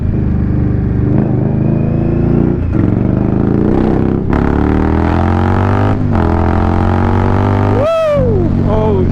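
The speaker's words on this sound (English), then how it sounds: "I forget how fast this fucking bike is, because I never open the throttle all the way." A motorcycle pulls hard at full throttle, its engine note climbing through gears in rising sweeps with brief shift gaps, close and loud, ending in a last high-revving surge.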